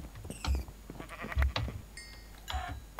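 Sheep bleating in the Minecraft video game, a few short game bleats spaced across the clip with a chime-like tone in between, clear and fairly close, with no talk.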